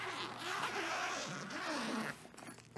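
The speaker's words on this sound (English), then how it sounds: "Let's go ahead and unzip it." The zipper on a Garrett metal detector bag is pulled open in one long, close rasping run, followed by faint handling sounds.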